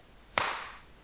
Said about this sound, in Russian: Можете хлопнуть в ладоши?